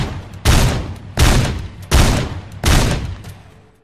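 A shotgun in Teardown fires four loud, close blasts about three quarters of a second apart, each ending in a short decaying tail.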